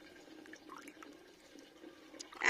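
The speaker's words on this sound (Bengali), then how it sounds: "এভাবেই জলটা দিয়ে নিই।" Water is poured by hand onto small potted seedlings of mustard, coriander and fennel on a rooftop, a soft, faint trickle and patter with a slightly louder splash at the end.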